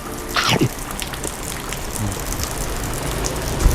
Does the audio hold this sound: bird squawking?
no